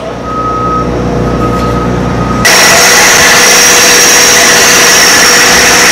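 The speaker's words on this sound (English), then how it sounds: "this generator is super quiet for a 12kW unit operated by diesel fuel" A 12kW Powertech diesel generator on a food trailer runs with a steady, loud mechanical drone and a fixed tonal whine, shifting to a fuller, noisier roar partway through, with no talking.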